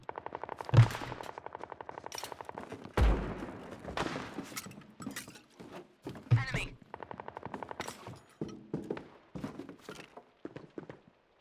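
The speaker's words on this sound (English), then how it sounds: "I heard gunshots, so let's do this." Gunfire in the World War II multiplayer game United 1944: sharp, loud shots and bursts spaced irregularly across the scene, some close and punchy, others thinner and more distant, with rapid automatic strings between single cracks.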